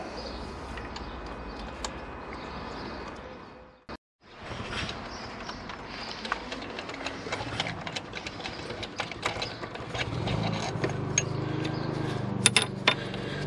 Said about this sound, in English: let me get all four of these bolts out